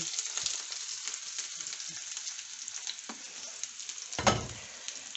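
Leftover onion frying in hot oil, a dense, crackling sizzle that holds steady throughout, with a few clattering stirs of the pan and one louder scrape near the end.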